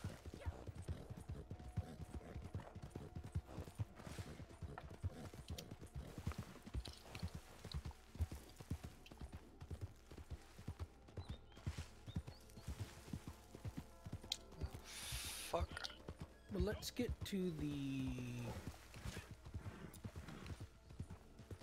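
In Red Dead Online, a horse's hooves clip-clop in a steady trotting rhythm throughout, close and moderately quiet, with a brief mechanical rattle and a short horse snort or whinny near the end while a player speaks briefly.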